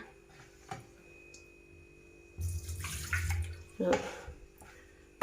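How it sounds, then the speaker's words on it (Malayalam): Water splashes and pours into a container of rice being soaked for appam in a couple of short bursts, with small clinks and quiet background noise between. "നാളത്തേക്കുള്ള അപ്പത്തിനുള്ള അരി വെള്ളത്തിയിട്ടേക്കാണ്"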